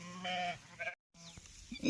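Sheep in a village flock bleat in a few short, wavering calls, fairly close but soft, with a brief quiet gap between them.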